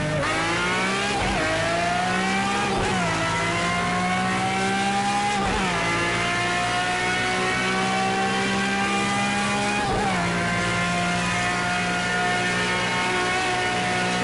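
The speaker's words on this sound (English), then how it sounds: "this car sounds so good" A sports car engine revs continuously in a racing video game, rising in pitch through repeated gear shifts with brief dips around each change, loud and steady with no talk over it.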